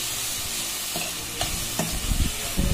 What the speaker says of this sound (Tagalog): Lutuin lang natin yung tomato paste.